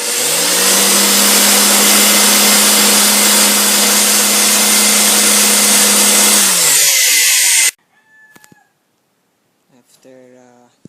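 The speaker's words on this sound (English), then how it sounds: "clean the chip, the case of the CPU using a power blower" A power blower roars loudly and steadily for several seconds while cleaning a computer CPU case, then cuts off abruptly, leaving faint handling sounds and brief quiet talk.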